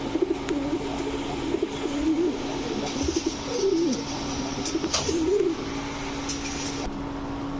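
Pakistani jira kaldam pigeons coo in soft, repeated rolling phrases close by, rising and falling over a steady low hum, with no voices.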